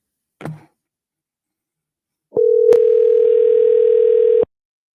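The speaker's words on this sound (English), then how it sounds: "See if he picks up the phone." A single steady telephone tone sounds loud and clean for about two seconds after a short click, placing an outgoing call to a real estate agent's office; no voices.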